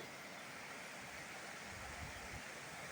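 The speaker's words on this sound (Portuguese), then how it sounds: "Muita água, muita chuva" Heavy rain pours onto a swollen river running full, a steady broadband rush of water that stays loud and unbroken throughout, with no voices.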